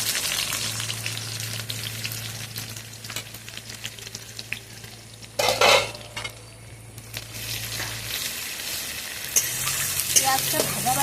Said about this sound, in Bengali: এখন এই তেলের মধ্যে পেঁয়াজ দিয়ে দেবো।